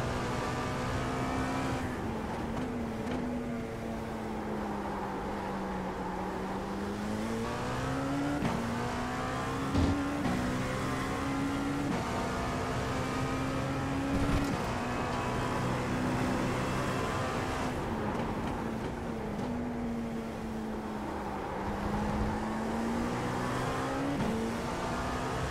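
Race car lapping Daytona in iRacing, a sustained engine drone rising and falling through gear changes and speed, with a few brief bumps, steady and close throughout.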